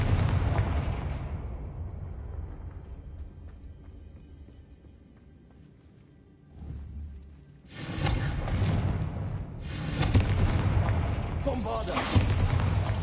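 Repeated Confringo blasting spells explode in the video game Hogwarts Legacy, heavy booming bursts that start loud, fade into a rumbling tail, then return as dense, crashing blasts near the end.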